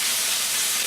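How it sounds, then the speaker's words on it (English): A brief, even hiss of bacon sizzling in a hot pan, close and steady with no voices. "we got that bacon at a good sizzle right now"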